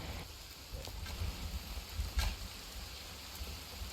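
Rain falls in the survival video game Sons Of The Forest as a steady soft hiss with faint droplet patter and low rumble, no speech over it.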